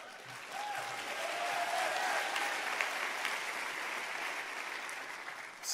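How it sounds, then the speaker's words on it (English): A church congregation at a Thanksgiving Eve service claps in a steady wash of applause that swells, holds through several seconds, then thins out, with a faint voice underneath. "Three of you clap for that."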